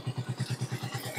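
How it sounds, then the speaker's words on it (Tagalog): A motorcycle engine idling or pulling slowly into a parking area, close by, with a steady low pulsing throb repeating about every tenth of a second over a faint wash of background noise. "Ay, pasok ang motor na dito."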